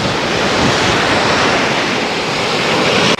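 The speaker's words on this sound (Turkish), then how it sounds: "Şu anda Faliraki sahilindeyim." Sea waves wash continuously onto the mixed sand-and-pebble shore of Faliraki beach on Rhodes on a hot day, a steady loud surf roar with some wind buffeting the microphone.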